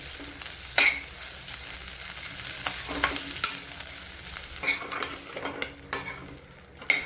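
Ginger, garlic and coriander sautéing in a pan with fresh coconut, a continuous soft sizzle broken by repeated close stirring scrapes and clinks of a utensil, with no talk.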